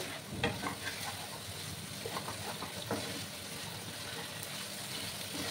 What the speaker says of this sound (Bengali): পেঁয়াজটাকে ভালো করে আমি ভাজবো।